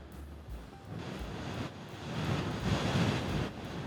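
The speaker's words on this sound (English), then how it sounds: "Wow, the wind is kicking." Strong wind buffets the microphone while riding a Royal Enfield Classic 350 motorcycle, a steady broadband roar that swells louder toward the end, with no talking.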